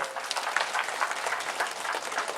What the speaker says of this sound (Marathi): आपण एकदा सर्वांनी जोरात टाळ्या वाजवाय